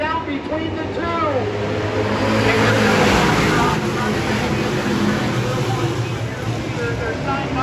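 Pro stock cars racing on the Lebanon Valley oval, engines roaring loudly and continuously as the pack charges down the back straightaway into a turn, with an announcer talking over the din.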